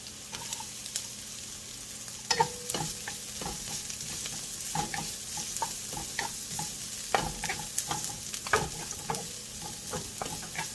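Celery and ginger are stir-fried in a pan for Chinese fried rice. A steady sizzle runs under repeated scraping and stirring clatters, and nobody speaks.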